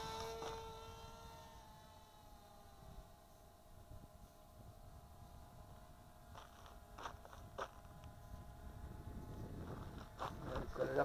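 Eachine EF-01 FPV camera drone throttling up and lifting off outdoors, a steady multi-tone motor and propeller whine holding throughout with rising bursts near the end, moderately loud with faint background noise.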